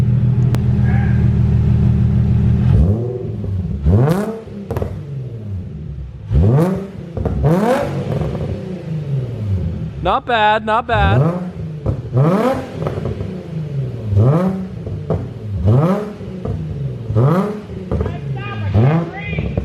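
A Nissan 350Z's prototype titanium exhaust idles with a low burble, then is revved repeatedly in short bursts that rise and fall, with a brief spoken remark in between.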